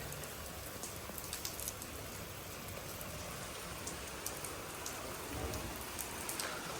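Rain falls steadily over a farmyard near paddy fields, a soft continuous patter and hiss with faint scattered drops, even and unbroken throughout.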